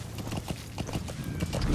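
Horse hooves clip-clop in a steady, rapid rhythm in the PS4 game Metal Gear Solid V: The Phantom Pain, the close, continuous trotting filling the whole short stretch.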